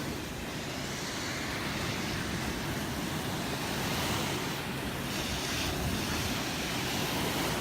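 Ocean waves washing onto the beach at Destin, Florida, a steady broad roar of surf with some wind rumble against the microphone, continuous and fairly close.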